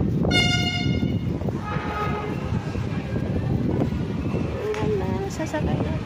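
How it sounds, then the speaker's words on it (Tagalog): LRT light rail train arriving at Baclaran station, a loud steady rumble of the cars with a short horn toot near the start, while a person talks over it. "Ayan na, may LRT na."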